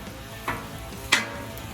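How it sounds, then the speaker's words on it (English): Fresh cut onions sauté in a pan with a soft, steady sizzle, broken twice by brief louder stirring scrapes, close up and with no talk. "We have our fresh cut onions, and we're going to put these just to the side, and we're going to saute those"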